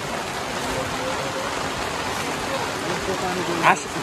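Steady, even hiss of rain falling, constant throughout, with a brief small knock near the end.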